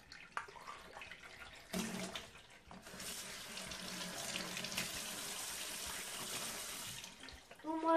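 Tap water runs into a sink during handwashing, a steady broadband rush lasting several seconds with brief breaks, fairly close, ending with a short burst of other household noise.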